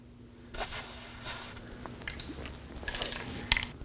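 Aerosol Never-Seez anti-seize sprayed onto the threads of an outer tie rod on a 2014-2020 Acura MDX, a couple of short hissing bursts standing out against quiet workshop background.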